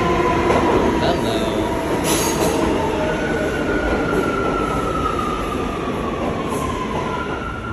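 A New York City subway train rumbles steadily with a loud, continuous roar and a drawn-out wheel squeal, heard up close from inside or beside the car, with a faint voice briefly under the noise.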